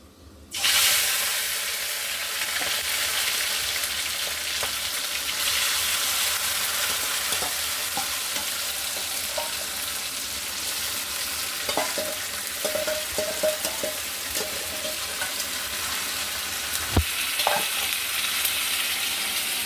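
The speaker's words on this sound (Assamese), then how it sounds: "এতিয়া ছাগলী মাংসখিনি বনাব লৈছোঁ এইফালে কেৰাহীত তেল গৰম হৈ গৈছে" Steady loud sizzle of spice-coated goat meat frying in hot oil in a kadai, with occasional crackles and pops and a few stirring knocks, continuous throughout with no talking.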